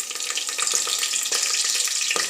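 Mustard seeds splutter and crackle in hot oil for tempering, a dense bright sizzle with quick popping bursts throughout, close and continuous, no voices.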